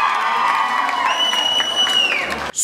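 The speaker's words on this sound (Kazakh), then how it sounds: "Жарқынай жақсы ойнады дегенде шапалақ ұрамыз." Wedding guests in a restaurant hall clapping and cheering together as a crowd, a dense steady wash of applause with whoops and a sustained tone over it, ending abruptly.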